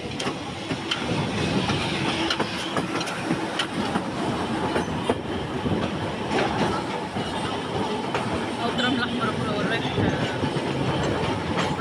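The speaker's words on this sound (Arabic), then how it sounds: "وده كده داخل على محطة مصطفى كامل من ناحية الترام رقم 1" An Alexandria tram slows into Mustafa Kamel station through a track switch, wheels clicking and rumbling steadily at close range, with a voice talking over the rail noise.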